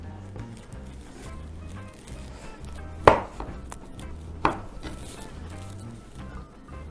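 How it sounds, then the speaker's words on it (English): A knife cuts through frozen bread for a banana sourdough bread pudding, with two sharp, crunchy chops about a second and a half apart against quiet kitchen background, close and distinct. "Cut frozen bread"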